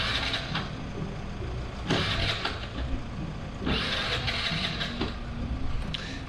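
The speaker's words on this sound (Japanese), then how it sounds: "やべえ、エンジンつかねえ。" A moped engine that will not start, its starter cranking in repeated whirring bursts, each ending without the motor catching, close by on a city street in Nagoya.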